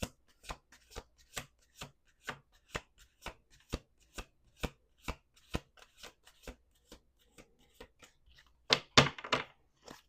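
Playing cards shuffled in a quiet room, a long run of crisp evenly spaced riffling snaps that ends in a louder burst of rapid riffling near the end.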